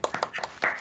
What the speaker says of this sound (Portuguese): Palmas para o Hiro, para o Davi, para todo mundo, né?